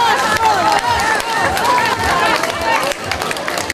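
A crowd in a district house of culture applauds as a member of parliament climbs onto the stage, with clapping and cheering mixed into lively crowd noise and nearby voices.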